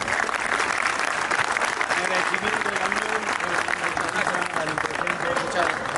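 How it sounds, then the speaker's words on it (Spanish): A group applauds at the close of a youth rugby coaching class, loud and continuous clapping that fills the whole stretch with a constant, even wash, with voices mixed in underneath. "le damos un aplauso"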